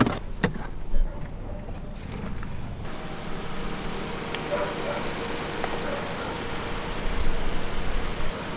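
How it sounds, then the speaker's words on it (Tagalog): A Mitsubishi Xpander engine idles with a suspected exhaust leak, a steady low hum with a faint hissing edge, a few clicks early on and a slight rise near the end. "Pero tingin ko parang singaw ng exhaust eh."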